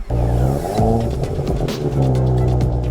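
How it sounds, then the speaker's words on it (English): A powerful car engine revs loudly up close, pitch climbing and dropping in several surges over a deep, continuous rumble. "the engine sound would be the best music you heard today"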